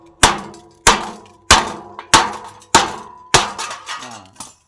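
Hammer blows knocking a tightly seized part loose, six loud, sharp strikes landing roughly every half second or so, each ringing briefly, with a lighter extra tap between two of them.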